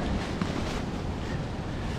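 Steady, broadband wind gusting to 50 mph roars and buffets a microphone throughout, a continuous rushing noise with slight surging, no voices.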